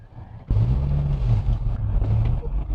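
A 2004 Honda Accord 2.4 i-VTEC engine with twin straight-through exhausts starts up and runs with a low, steady rumble that swells slightly as it revs, heard from nearby.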